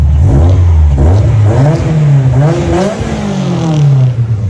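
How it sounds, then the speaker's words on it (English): A car engine revs loudly and steadily close by, its pitch rising and falling through several throttle pushes with no talking. "Let's give her a little rev for the boys over here."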